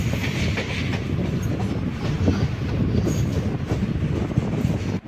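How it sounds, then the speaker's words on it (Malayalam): A passenger train pulls out of Haripad station on the Kollam–Alappuzha line, giving a loud, continuous rumble of rolling carriages with faint wheel clatter running steadily throughout. "ഒരു മിനിറ്റ് പോലും തികച്ചിടാതെ നമ്മുടെ ട്രെയിൻ ഹരിപ്പാട് സ്റ്റേഷനിൽ നിന്ന് എടുത്തിരിക്കുകയാണ് കേട്ടോ"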